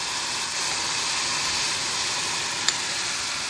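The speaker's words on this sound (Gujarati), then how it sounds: "તેલ નથી આમાં, પણ નોનસ્ટિક લીધું છે એટલે હવે આ હું ટમેટોની પેસ્ટ પહેલાં નાખી દઉં છું" Tomato paste sizzles in an oil-free nonstick pan with roasted cumin, cooking for palak paneer: a steady, bright hiss runs throughout, broken by a couple of faint clicks near the end.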